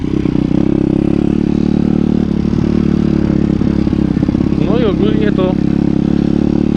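A PitBike 170 motorcycle engine idles and runs steadily during break-in, a loud continuous mid-pitched drone with a brief rising rev near the end, while a voice talks over it.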